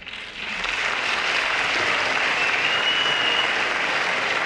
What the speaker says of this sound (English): you see some standing up and applauding this